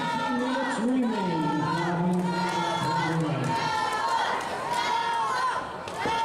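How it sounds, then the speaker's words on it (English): A stadium crowd chants wrestler John Noble's name during a SummerBash surprise match in the AMW wrestling video game. The voices swell in a steady, rolling roar beneath close commentary that talks over it. "Crowd chanting Noble's name"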